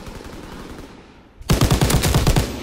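Loud, close machine-gun bursts in the World War II shooter Call of Duty: WWII, a quick rhythmic stream of shots that starts suddenly after a quieter stretch of low background rumble.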